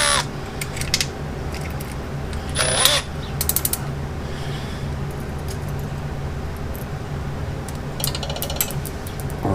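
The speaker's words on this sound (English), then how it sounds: "And I'll shoot a screw into it." Power driver shooting a screw in a garage while fitting wheel rings to a Ram 3500 truck, heard as a ratcheting mechanical whir with a few sharp clicks and brief louder bursts.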